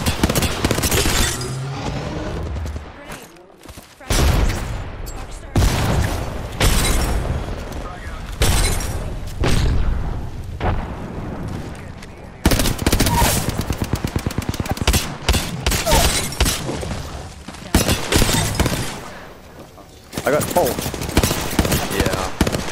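Heavy gunfire in Apex Legends, with rapid automatic bursts and single shots rattling almost nonstop, loud and close. Short lulls break the shooting, and players talk over it.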